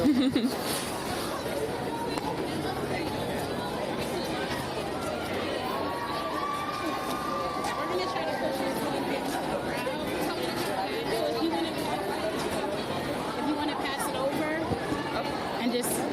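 Students gathered at a school gun-safety protest fill the air with dense, steady crowd chatter and overlapping voices, a constant babble with no single voice standing out.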